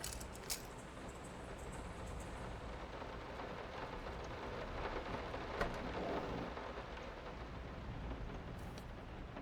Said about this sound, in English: I think the rain sounds a little too loud.